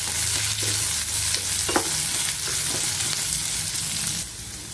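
Sliced onion and about ten dried red chillies fry in a pan for chutney, giving a continuous close sizzle with occasional scraping and stirring taps and no talking.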